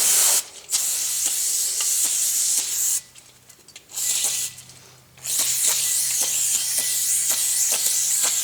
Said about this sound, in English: I'll just spray a little brake clean all over it